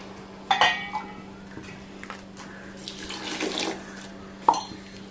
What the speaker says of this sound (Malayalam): നമുക്ക് ഇതിലേക്ക് കുറച്ച് ചൂടുവെള്ളം ഒഴിച്ചു കൊടുക്കാം.